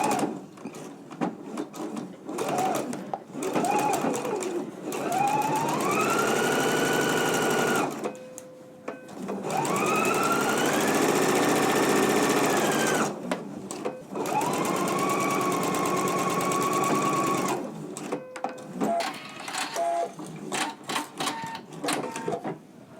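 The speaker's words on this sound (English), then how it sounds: "we're just going to stitch them on using a 3/8 of an inch seam allowance" A sewing machine stitches the side seams of a pair of pants, running in several loud sustained bursts with pauses and quieter handling noises between them.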